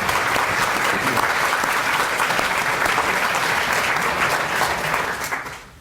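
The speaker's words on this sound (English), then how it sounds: "So I think we should give him a applause." A lecture audience at a Cambridge evening talk breaks into dense, sustained applause that fills the hall and then tapers off at the end.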